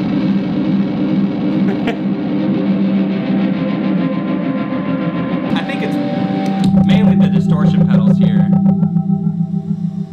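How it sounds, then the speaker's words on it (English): Metallic scraping and droning tones run through heavy effects, turning buzzy and distorted with a rhythmic pulsing toward the end, while someone talks. "Here's what the shovel sounds like with everything on."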